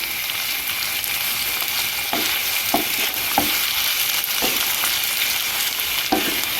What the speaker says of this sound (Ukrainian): білі гриби, додаємо цибулі і разом обсмажуємо